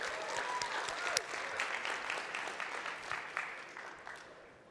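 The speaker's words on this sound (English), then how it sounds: "Let's give another round of applause to Barry" A keynote audience at a mortgage lending summit applauds Barry in a steady, dense round of clapping that holds throughout, fairly even in loudness with a few sharper claps standing out.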